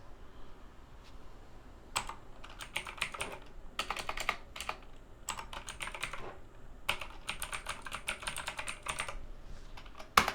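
Typing on a computer keyboard during remote support: quiet, close clusters of rapid key clicks in irregular bursts separated by short pauses, over faint room noise.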